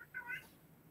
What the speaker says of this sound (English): I apologize if you hear my cat crying in the background